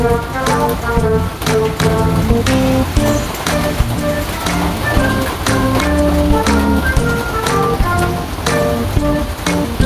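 Steady rain patters loudly and continuously, with distinct drops striking a nearby hard surface throughout.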